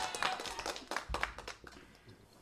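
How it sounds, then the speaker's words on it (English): A scattered round of applause on a Zoom call, a few compressed, uneven hand claps and taps heard close over a faint background murmur. "we get a round of applause for that"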